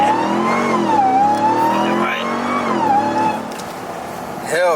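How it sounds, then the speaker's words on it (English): A Ram TRX pickup fitted with a JMB intake revs hard on launch control, its loud engine note swelling and dipping in pitch up close, with a voice speaking over it. "Gas pedal all the way down, let go of the brake"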